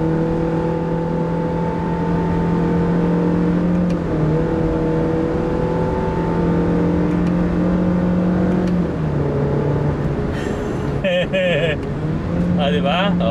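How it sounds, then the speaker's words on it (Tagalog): A Honda BR-V engine revs up hard after a downshift into second gear, with a steady rising drone and a brief dip. Someone talks over it near the end, along with other clicks and noises. "naparinig ko sa inyo yung engine ah. So, isasagad ko nga, hindi, i-downshift ko ng, yan,"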